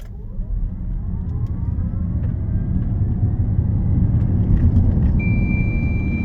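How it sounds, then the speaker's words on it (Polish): A 2023 Kia EV9 electric SUV accelerating at full throttle, a rising whine over steady road and tyre roar that builds for several seconds, with a thin high tone appearing near the end, no talking. "Po prostu wklepujemy gaz na maksa i już."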